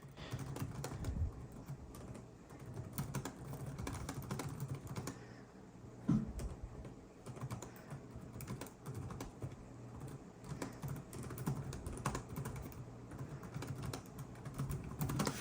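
Rapid, steady clicking of keys on a Lenovo Legion Slim 5 Gen 8 (AMD, 2023) laptop keyboard goes on throughout, quiet and close, with brief pauses and one sharper tap near the middle.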